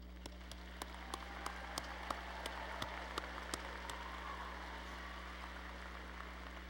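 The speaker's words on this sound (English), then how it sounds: "Feel free to applaud." Audience at a university fall commencement ceremony applauding the graduates, a continuous dense patter of many hands filling the hall at a steady moderate level, with occasional sharper individual claps standing out.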